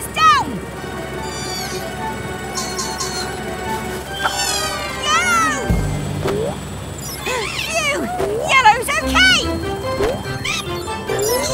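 A cartoon cat meows several times amid bright chirping, whistling cartoon effects, with a low thud midway and voices speaking around it.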